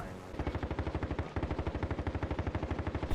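A light machine gun fires in Call of Duty Black Ops Cold War Warzone, a long sustained burst of rapid, evenly spaced shots, loud and close.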